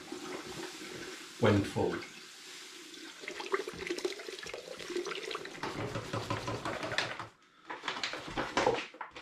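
Granular brewing sugar poured from a 5 kilo bag into a pan, a continuous rushing, hissing trickle that swells and fades in waves, with a brief pause near the end before resuming.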